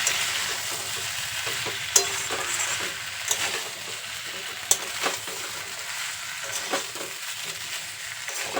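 Ground spices stirred through Bengali shukto vegetables in a frying pan, a steady close sizzle with scraping spatula strokes and a few sharp clanks against the pan.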